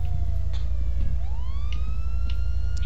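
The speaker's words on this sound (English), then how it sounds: "I'm gonna shut off this siren." A police car siren wails in the GTA V FiveM video game, its tone sweeping down then rising again over a steady low engine rumble, loud and continuous with no speech.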